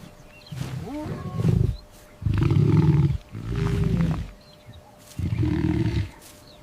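A lion roars in four long, loud, deep bursts separated by short pauses, close and clear with no talk over it.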